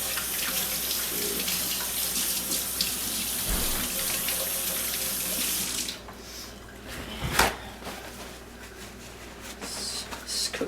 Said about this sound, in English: So let me wash my hands real quick.